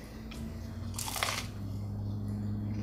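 One close, crisp crunch as someone bites into smashed potatoes topped with fried garlic chips, a short burst followed by soft chewing over quiet room tone.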